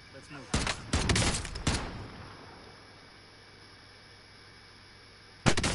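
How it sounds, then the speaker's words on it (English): Gunfire from an opposing team in the video game Call of Duty Cold War: several loud, sharp bursts in quick succession early on, then a quiet stretch before another abrupt burst at the end. "And another team shooting here."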